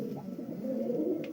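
A pet pigeon gives a short, low, close cooing phrase that is clear and alone.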